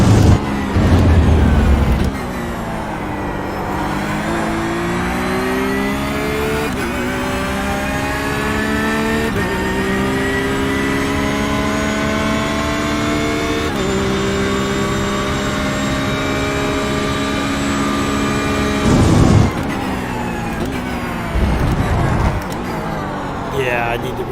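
Ford GT40 GT3 race car engine in a racing video game, a sustained loud engine drone rising steadily in pitch through a long acceleration, then a brief drop and shift near the end, with a voice talking over parts of it.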